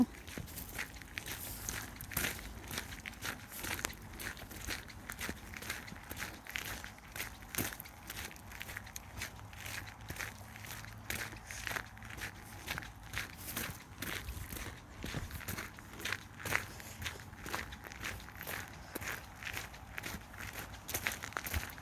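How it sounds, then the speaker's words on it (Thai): Steady footsteps walk along a shortcut path outdoors in Finland after a day of rain, the repeated crunching steps fairly close and continuing without talk. "เราเดินไปทางลัดค่ะ"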